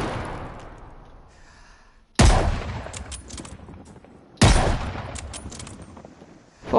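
Gunfire in the Call of Duty: Vanguard video game: two loud, sharp blasts a couple of seconds apart, each trailing off in a long rumbling decay, with a third blast starting at the very end.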